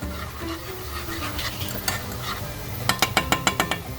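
A tablespoon of sugar caramelizes in a hot pan while being stirred. A steady sizzle runs throughout, followed by a quick run of rhythmic scraping strokes from the utensil near the end.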